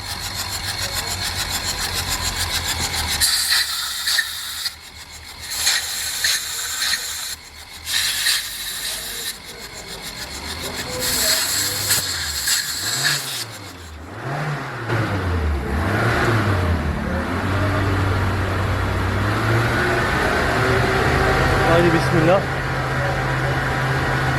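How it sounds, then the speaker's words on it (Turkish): A 2010 Fiat Linea with a fault limiting it to 2500 rpm and 100 km/h cranks with a rough, rasping starter churn while air is held, then catches and settles into a steady idle, someone talking throughout. "Bu gibi durumlarda bu şekilde hava tutup bir yandan da marş yapmak lazım."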